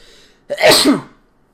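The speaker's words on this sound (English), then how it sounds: "That was a big sneeze." A single loud, sharp sneeze bursts out after a moment of near silence, then fades quickly.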